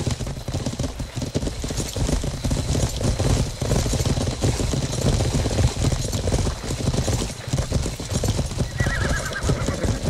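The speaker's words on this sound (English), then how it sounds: "I got the horse." Horse hooves clop steadily and a horse neighs amid a medieval battle in the game Life is Feudal, with a dense, continuous wash of combat noise throughout.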